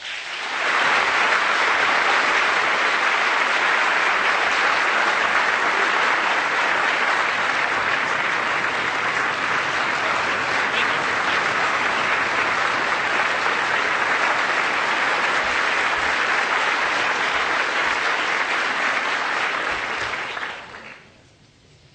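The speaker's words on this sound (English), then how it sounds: "I haven't said a word. I already got a standing ovation." A large audience gives a standing ovation for U.S. Attorney General Eric Holder, with dense sustained applause filling the room at full strength for about twenty seconds before it fades out at the end.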